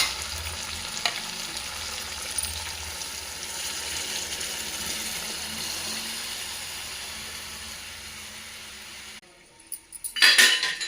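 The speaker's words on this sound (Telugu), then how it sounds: "ఇక మజ్జిగ పోసుకోవాలి." Buttermilk goes into a hot pan of tomatoes for majjiga pulusu, giving a steady loud sizzle and bubbling that slowly fades, then a few sharp clinks of a spoon stirring near the end.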